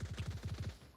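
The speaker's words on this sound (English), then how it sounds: "Gunshots fired." Rapid automatic gunfire in the VR shooter Onward during a competitive match, a tight burst of about ten evenly spaced shots within one second, loud and close.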